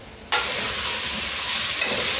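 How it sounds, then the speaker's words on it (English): Vegetables steam and sizzle in a pan with a steady, close frying hiss that jumps louder at the start and swells again near the end, with no talking. "So you allow it like to steam for like a minute."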